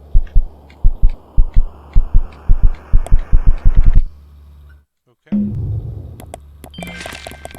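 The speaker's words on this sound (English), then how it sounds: "why is the screen having a heartbeat?" Heartbeat sound effect from the Kinito pet video game: a loud, steady run of paired low thumps for about four seconds, then a brief silence, followed by a low rumbling swell with scattered bright chimes and glitchy tones.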